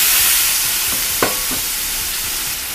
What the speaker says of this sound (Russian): Продолжаем жарить.